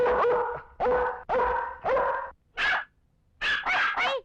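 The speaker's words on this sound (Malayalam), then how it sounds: "പട്ടിയെ പിടിച്ചേ" A dog barks in a series of loud, close woofs, four quick ones, then a pause, a single bark, and a final rapid burst of three, with no voices over them.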